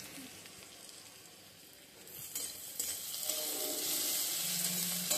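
Onion frying in oil with dried chilli, bay leaf and cumin seed tempering, a steady close sizzle that swells louder and brighter partway through, with scraping stirs.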